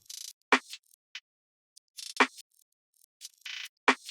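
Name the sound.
percussion loop sample from Only Ones Percussion and Loop Kit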